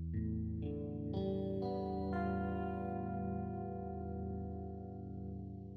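Six-string electric guitar with every string tuned in fourths, strings struck one after another into a dense, dissonant sustained chord, heavily processed with chorus and distortion, ringing out alone.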